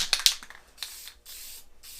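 Aerosol spray can applying a coat to Zenith 701 experimental airplane parts in cold weather: a few short hissing bursts up front, then two longer steady sprays, close and fairly loud.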